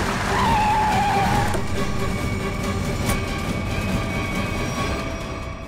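A car brakes hard and skids to a stop during a chase on a road, a loud tyre squeal sweeping near the start, then fading into a sustained rumbling screech that slowly settles over several seconds, with no talking.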